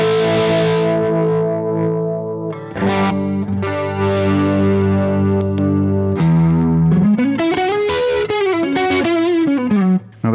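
Electric guitar played through a Marshall 1974X handwired 18-watt combo amp with the guitar volume full, driven and distorted, sustained chords giving way to a bending lead line, loud and close with no speech.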